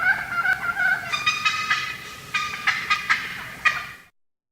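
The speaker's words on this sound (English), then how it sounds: "As they fly down, they may make a series of calls known as the fly-down cackle." A wild turkey's fly-down cackle: a rapid, uneven series of sharp clucking calls, some doubled, building to a final louder note before cutting off, heard clearly and alone.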